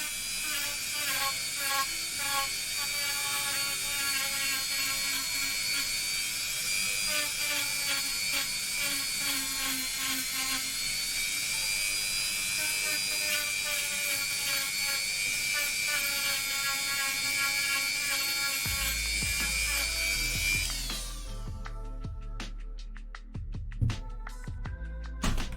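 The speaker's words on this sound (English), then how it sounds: "that's that Dremel" A Dremel rotary tool whines loudly and steadily at high pitch close by for about twenty seconds, then cuts off, followed by a low rumble and a few clicks and knocks.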